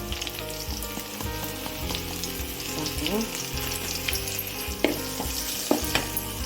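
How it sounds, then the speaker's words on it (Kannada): Garlic frying in a pan gives a strong, continuous sizzle with crackles and a couple of sharper pops near the end, close and loud, with no talking. "ಸ್ವಲ್ಪ ಬೆಳ್ಳುಳ್ಳಿ ಚೆನ್ನಾಗಿ ಫ್ರೈ ಆಗಲಿದೆ"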